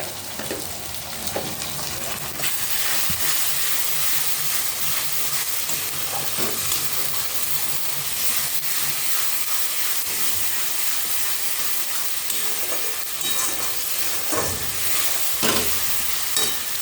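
Ground spices sizzle in ghee with a little sugar in a pan for muri ghonto, a loud continuous frying hiss with scraping stirring strokes and occasional clinks of the spoon against the pan.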